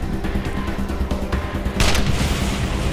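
A single gunshot in the Wasteland 2 video game rings out over a dense, droning game soundscape, a sharp burst near the end followed by a brief decaying tail.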